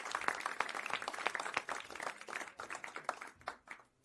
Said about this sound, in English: I think we can give a big applause